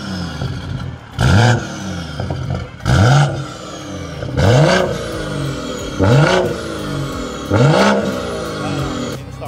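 A BMW B58 engine with a downpipe and no muffler revs hard five times, each loud, raspy burst rising and falling back to a rough idle between blips, close up and dominating.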